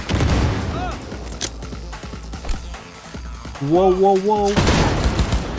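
A grenade blast and bursts of gunfire during a firefight in Cyberpunk 2077: booming impacts and scattered shots at the start and end, with a voice exclaiming in the middle.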